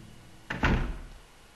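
A creaky door swings open in Silent Hill, a short, close thud followed by a heavier knock as it gives way, with nothing else around it.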